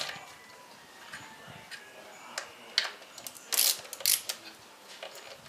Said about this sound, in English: So I'm just going to use hand tools.